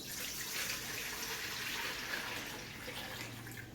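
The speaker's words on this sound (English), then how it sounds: "we're gonna pour our water in" A steady stream of water pours and splashes into a bowl for several seconds, fairly close and continuous, with no talking.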